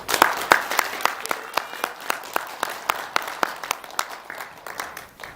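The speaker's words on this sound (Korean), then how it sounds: "박수 좀 보내주십시오." A small audience at a press conference claps steadily with sharp, evenly spaced hand claps. The applause is fairly close and moderately loud and fades slightly toward the end.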